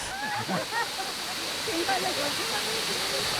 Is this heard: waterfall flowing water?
yes